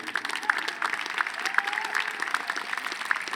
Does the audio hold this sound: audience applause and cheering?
yes